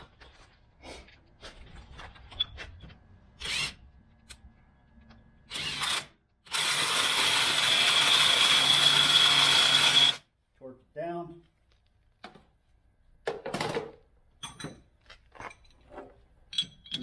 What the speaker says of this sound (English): Remove the installation nuts.